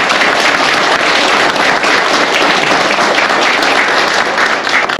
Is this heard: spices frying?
no